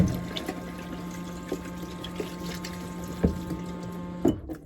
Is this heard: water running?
yes